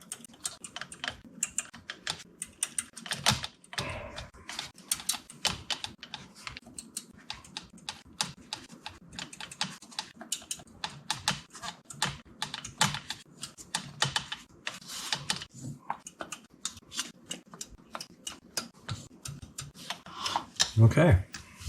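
Keys on a Pro One synthesizer key bed under repair are pressed in a long run of rapid, dry plastic clicks and taps, steady and close, occasionally denser toward the end, with some quiet talk mixed in.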